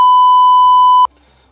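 A UNI-T UTI260B thermal camera sounds its temperature alarm as a single loud, steady electronic tone lasting about a second before cutting off abruptly.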